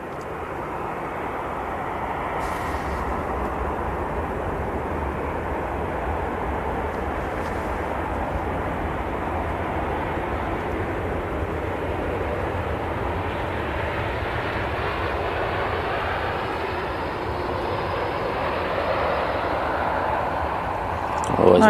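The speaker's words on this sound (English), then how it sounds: "So nice, quiet arrival from the Dreamliner there" A Boeing 787 Dreamliner arrives at Manchester Airport, its jet engines a steady, moderately distant roar that holds evenly and swells slightly near the end.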